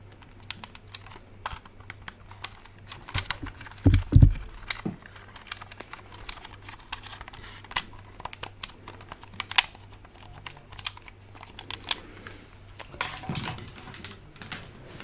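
Quick, irregular plastic clicking of buttons being pressed, close up and fairly soft, with a couple of louder thumps around the middle.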